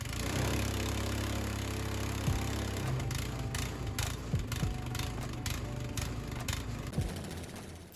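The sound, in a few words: machine engine started and running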